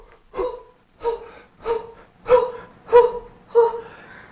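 Deep breathing exercise: six sharp, evenly spaced breaths about every half second to second, each a short forceful gasp or pump, close and clear with quiet gaps between.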